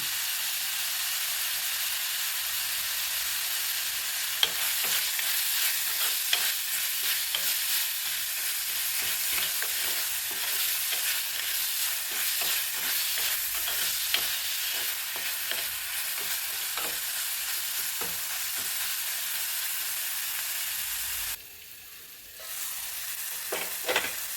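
Prawn curry gravy with salt and turmeric sautés in a pan, giving a steady loud sizzle with frequent scraping stir strokes throughout and a brief drop in the hiss near the end.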